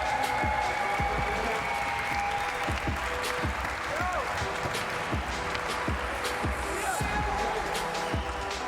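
A crowd applauds competitors at the Simple Session 2022 event, loud sustained clapping and cheering filling the space, with a voice speaking over it.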